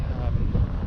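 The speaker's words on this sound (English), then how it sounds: "wondering how well the windscreen works because how windy it is right now" Strong headwind roars and buffets a bike-mounted microphone during a bikepacking ride near Canmore. It is a dense, loud low rumble that covers the whole moment.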